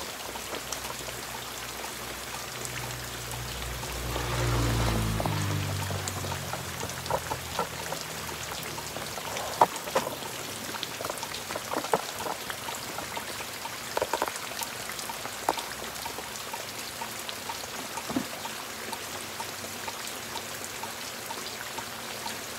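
Water sprinkles over bean plants and soil in a hot vegetable garden, a soft, steady patter like light rain. It swells briefly, then settles into a fainter hiss with scattered drips, close by and without voices.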